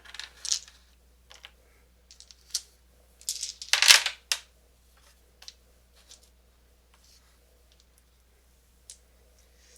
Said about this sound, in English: We'll both roll our dice.